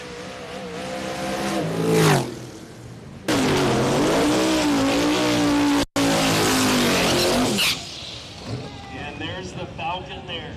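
A Camaro race car accelerates hard off the line in a race, its engine screaming up through the revs with tire squeal, loud and close, beside other cars and a commentator speaking.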